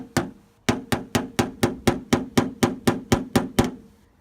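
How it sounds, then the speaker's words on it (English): A hammer strikes a dented Lexus IS300 car roof in a fast, steady series of about a dozen sharp taps, close and evenly spaced, knocking down high spots, with no talking. "use this hammer that conveniently dropped on the ground to knock down the high spots"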